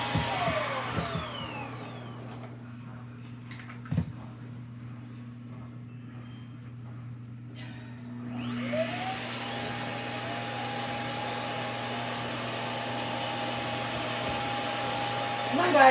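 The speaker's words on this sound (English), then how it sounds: "I'm going to vacuum underneath where the rug was because it's dirty under there" A vacuum cleaner starts up around the eight-second mark and runs steadily and loudly in a kitchen, cleaning the floor where a rug was lifted, after a quieter stretch with a low hum and a single knock.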